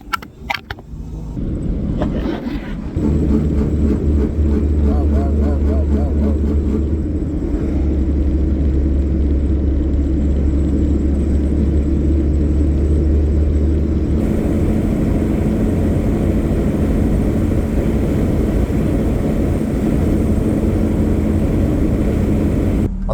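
A 1962 Ford Falcon's 200ci six-cylinder engine pulls steadily in second gear, a loud, continuous low drone and rumble close by that holds level throughout, with no talking.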